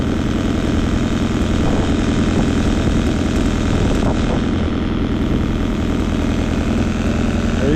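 A 1971 Datsun 510 engine with a Weber 32/36 carburetor, running smoothly at a steady idle: a loud, close, continuous rumble with an even throb and no talk.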